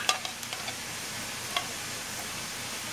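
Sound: condensed soup scraped from can into casserole

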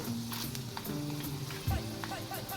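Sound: frying urad dal, mustard seeds and cumin in oil

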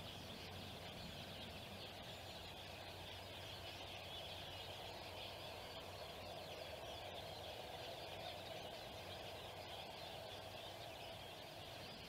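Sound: mixed flock of finches calling with road noise

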